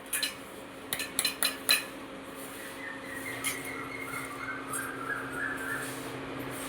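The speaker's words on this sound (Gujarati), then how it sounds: "આપણે કોકો પાવડર નાખી દીધી છે, તો હવે આપણે તેને હલાવી લઈએ।" A spoon clinks and scrapes in a pot while melted sugar and cocoa powder are stirred. A quick burst of metallic taps opens, then softer, steady stirring continues under a low background hum.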